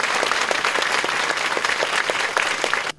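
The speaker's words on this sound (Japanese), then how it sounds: "拍手でお迎えください。" An audience at a Japanese talk event claps to welcome a guest onto the stage. The applause is steady and moderately loud, with rhythmic individual claps, and it cuts off abruptly near the end.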